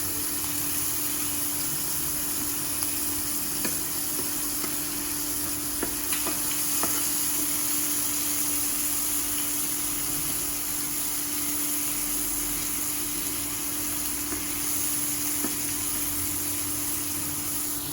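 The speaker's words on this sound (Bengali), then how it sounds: "চিংড়ি মাছটা আগে ভেজে নিচ্ছি।" Shrimp frying in oil in a pan, a steady, continuous sizzle with a constant hiss and faint crackles and stirring clicks, alone and fairly quiet throughout.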